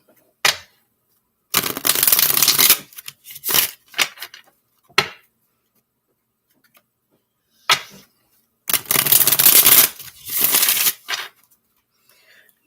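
Playing cards are shuffled in several quick riffling bursts, close and crisp, separated by short silences.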